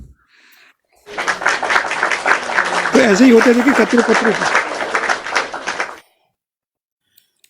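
A small group claps for several seconds at a political gathering, a dense burst of applause that starts abruptly and stops together, with a voice talking over it.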